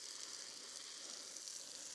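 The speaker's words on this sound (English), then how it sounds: "So we're just going to spray all the fins," Water sprays from a hose onto the plastic fins of a septic tank filter, making a steady, faint hiss that continues unbroken with no voices over it.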